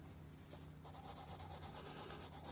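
Colored pencil scratches and rubs across black sketchbook drawing paper in quick, even back-and-forth strokes, close and faint against a steady low hum.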